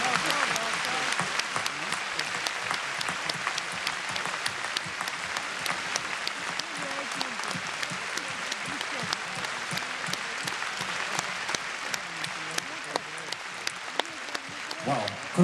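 Concert audience applause in a large hall for an orchestra, a sustained, fairly distant wash of steady clapping continuing unbroken for fifteen seconds with sharp individual claps standing out.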